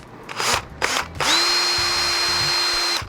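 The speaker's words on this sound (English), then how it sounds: "This is a 3/8 drill bit. And I'm gonna center it on that mark." A power drill with a 3/8 bit whines at a steady high pitch after a few short bursts, boring continuously into a steel steering shaft close by.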